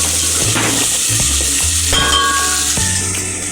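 Dal mixed with chutney for a dosa filling is stirred and fried in a pan: a loud, continuous sizzle with scraping stir strokes, and a steady tonal background underneath.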